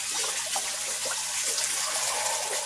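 Water pours steadily and continuously onto Saki Hikari growth fish food pellets, a loud, even gushing stream from start to finish.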